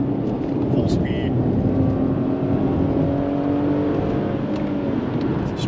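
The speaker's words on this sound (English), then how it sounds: "It's a strong little engine" Infiniti FX35 with a 3.5-litre engine held at high RPM under steady driving, a loud, continuous engine drone with a sustained whining tone running the whole time.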